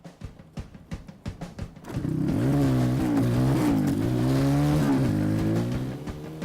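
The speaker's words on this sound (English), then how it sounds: "The mobility scooter did 71 mile an hour. They cram in a motorbike engine in there" A mobility scooter fitted with a motorbike engine races at speed. A series of sharp engine bursts gives way to a loud, sustained roar that rises and falls in pitch as it shifts through gears.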